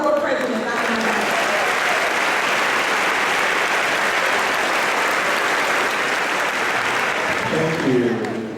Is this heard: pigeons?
no